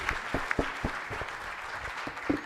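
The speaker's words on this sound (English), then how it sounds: "A round of applause to our panel members" A fairly small audience at a panel discussion on engaging men in gender-based violence dialogue gives a brief, faint round of applause for the panel members, a few distinct claps standing out.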